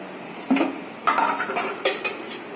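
A metal pan set down on a kitchen stove to cook egg bhurji, giving a few close clanks and scrapes of cookware against the burner, spaced over a couple of seconds with no talking.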